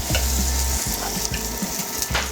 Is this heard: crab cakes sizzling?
yes